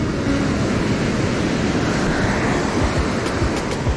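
Ocean surf pounds against a jetty during striped bass fishing, a loud, unbroken wash of breaking waves with gusts of wind buffeting the microphone.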